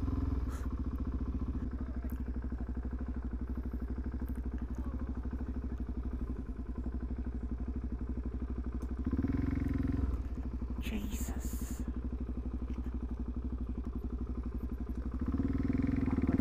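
Motorcycles at a bike meet rumble nearby in a continuous engine drone, with a couple of louder revving swells and some clatter over the background.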